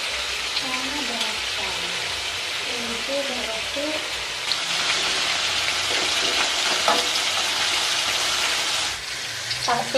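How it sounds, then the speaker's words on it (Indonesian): Sambal with petai stink beans sizzles and spits in hot oil as it is stirred, a continuous close frying hiss with bursts of crackle and scraping; a voice speaks briefly early on. "Langsung goreng sambal petai."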